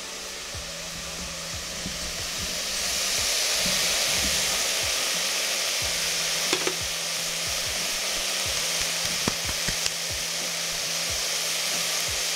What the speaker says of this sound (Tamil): ஸோ மட்டன் இந்த மாதிரி போட்டுட்டு கொஞ்சம் ஃப்ரை பண்ணிவிட்டு